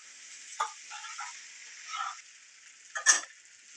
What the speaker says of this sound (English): What we're going to do is we're going to take our pasta, dump it right in. And then give it a good stir.